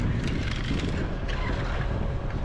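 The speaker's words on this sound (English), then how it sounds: "Darn, it's windy." Outdoor wind beside a truck and dump trailer buffets the microphone. It makes a continuous low, rumbling roar with gusty fluctuations, with nothing else clearly standing out.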